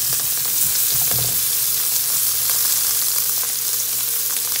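Scallops sear in a very hot pan with a steady, close, continuous sizzle and a few soft clatters near the start, with no talking.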